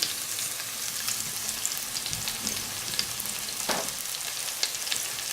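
Meatballs frying in olive oil in a pan give a steady, close crackling sizzle with scattered pops and a few faint low knocks, and no voices.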